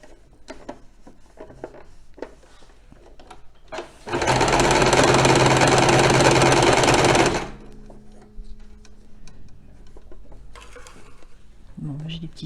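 A domestic sewing machine running an overlock stitch with no thread sewing, a loud steady whirring burst of about three seconds between quieter handling clicks and faint voice.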